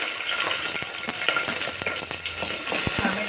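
Capsicum and other vegetables sizzle loudly in hot oil with peanuts and popped mustard seeds for a vegetable bajri khichdi, a dense crackling hiss with stirring scrapes and clinks.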